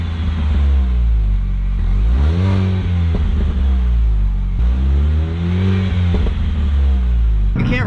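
A stock-exhaust car driven hard on a twisty road, with steady engine drone rising and falling through revs and gear changes, occasional faint pops, fairly loud and continuous throughout.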